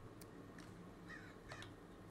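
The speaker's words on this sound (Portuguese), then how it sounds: "Olha, um pássaro. É um corvo, mano." Crow calls in a quiet outdoor setting, several brief harsh caws spaced apart over a faint steady background hum.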